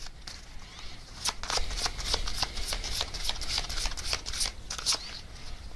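Message cards being shuffled by hand, a close, crisp run of rapid riffling flutters in bursts across several seconds, with no talk during the shuffling.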